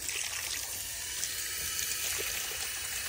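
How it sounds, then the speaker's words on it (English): Tap water runs from a faucet over a layer of ice in a frozen container, a steady soft trickle and splash close by with no talking. "all I'm doing is I'm just running water from the faucet"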